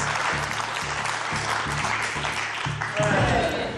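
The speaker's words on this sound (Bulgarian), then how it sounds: "И аплодисменти" A studio audience at the Bulgarian game show Deal or No Deal breaks into sustained applause, a dense crackle of clapping over a pulsing rhythmic music bed.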